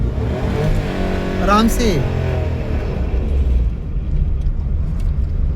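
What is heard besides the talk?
car engine revving as clutch is released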